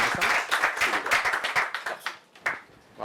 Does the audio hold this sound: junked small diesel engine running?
no